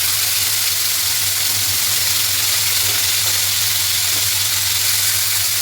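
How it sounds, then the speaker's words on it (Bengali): Cut potatoes hit hot oil already crackling with black mustard seeds and curry leaves in a pan for suji upma, producing a loud, continuous close sizzle with a low steady hum beneath. "কেটে রাখা আলুগুলো সব দিয়ে দিয়ে দেবো।"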